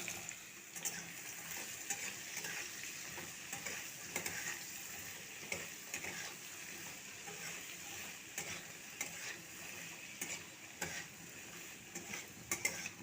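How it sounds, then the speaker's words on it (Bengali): Pumpkin pieces frying with tempering spices in oil, a faint continuous sizzle with scattered light clicks and scrapes of stirring, no voices. "ফোড়ন ভাজা হয়ে গেছে, দিয়ে দিচ্ছি কেটে রাখা কুমড়ো।"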